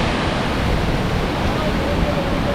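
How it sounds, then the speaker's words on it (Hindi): A mountain waterfall on the Kinnaur Kailash trek in the Himalayas, a loud, steady broadband rush of falling water heard close up with no pauses. "झरना क्रॉस कर लिए, जो आपको सामने दिख रहा है तो ये झरना है।"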